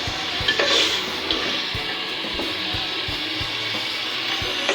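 Chicken fries in a pan with a steady, loud sizzle and occasional light stirring knocks, heard alone without voices.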